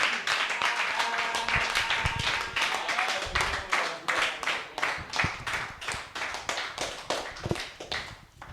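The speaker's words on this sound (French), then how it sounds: "Est-ce qu'on peut vraiment acclamer pour notre Seigneur?" A church congregation at a French-language worship service breaks into loud, sustained applause with cheering voices, dense rhythmic clapping filling the room for several seconds before tapering off.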